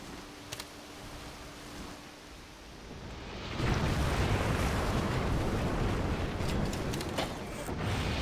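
Bombing in the Axis & Allies WW2 RTS game during the Battle of Kursk: a quiet battlefield bed swells into a heavy, sustained rumbling roar of explosions, with a few faint sharp cracks on top.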